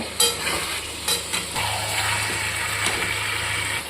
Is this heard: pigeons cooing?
no